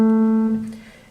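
A single piano note, an A played with the left hand, rings out clearly and alone, then decays over about a second.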